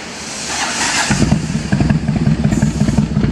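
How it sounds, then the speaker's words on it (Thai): Roadstar 1600 motorcycle with a chicano-style custom exhaust cranks and fires up, settling into a loud, close, lumpy idle with uneven throbbing pulses. "เดี๋ยวสตาร์ทให้ฟังแล้วกันเนาะใครอยากฟังเสียงเดี๋ยวลองฟังเสียงกันดูนะครับ"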